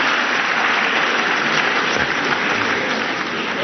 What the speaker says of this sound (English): Please give a round of applause for all our teachers,